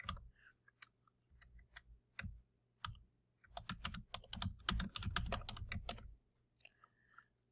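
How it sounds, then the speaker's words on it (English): Quiet typing on a computer keyboard, with bursts of rapid key clicks broken by short pauses, close and clear with no talking. "When you do your multiple choice question, you will type your question in the big box."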